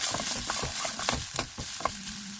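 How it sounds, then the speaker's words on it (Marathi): Vegetables stir-fry fast over a high gas flame, a soft sizzle with quick clattering tosses and scrapes in an uneven rhythm, close up and fairly quiet. "गॅस थोडा मोठाच ठेवलेला आहे, फटाफट भाज्या अशा परतून घ्यायच्या आहेत"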